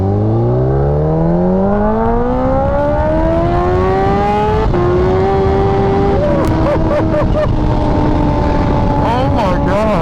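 A sport motorcycle engine, such as a Kawasaki Ninja H2, revs loud and close while riding, climbing steadily through the gears with brief dips at each shift, under wind rush and a voice talking.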